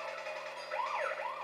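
Police car sirens wail in the video game Crash Bandicoot 3, a short, fairly faint rising and falling siren sweep over a steady background hum.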